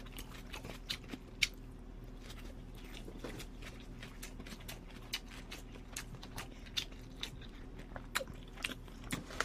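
Someone eats tofu and squid duruchigi stir-fry, with soft, close chewing and wet biting sounds repeating irregularly against quiet room tone, without speech.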